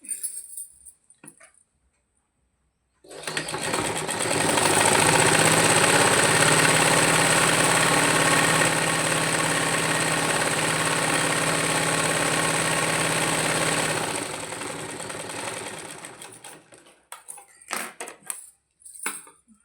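A sewing machine runs continuously for about eleven seconds while stitching the side seams of a garment, a loud, even mechanical whir that starts and stops abruptly with light handling clatter on either side.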